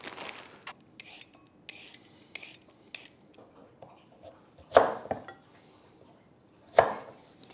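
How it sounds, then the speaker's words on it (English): Scrubbing and peeling a garden carrot on a kitchen board, with soft repeated rasping strokes and two sharper, louder scrapes near the end, fairly close and without talk. "I also want to add one of my garden carrots to this board. After I scrub it and peel it."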